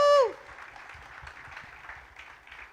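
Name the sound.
audience applause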